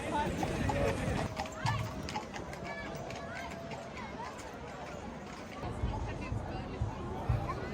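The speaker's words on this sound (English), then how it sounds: "horses adorned with ribbons" Horses decked with ribbons at a Swiss Alpine village festival clop along, their hooves sounding amid a lively crowd murmur, with people chattering throughout.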